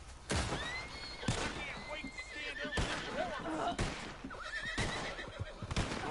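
A horse in Red Dead Redemption 2 whinnies loudly amid clip-clopping hooves and sharp game gunfire, while a player talks over the action.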